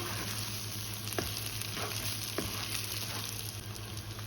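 Semolina and egg halwa fries in a pan, a dense, even sizzle holding steady throughout, broken by a few faint scrapes of a spoon and no voices.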